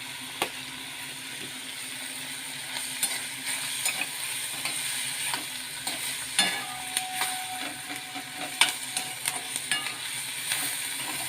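Chopped capsicum frying in oil in a pan for masala pav, a steady close sizzle broken by irregular clinks and scrapes of a spatula as it gets stirred, with no voices.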